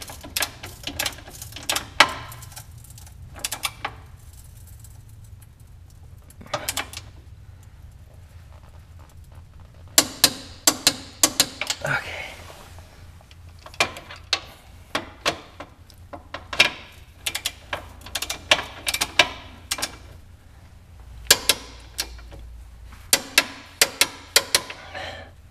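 Engine bolts torqued down with a ratchet wrench during a car engine swap, sharp clicking ratchet bursts coming in rapid, irregular runs with short pauses between them, close and loud.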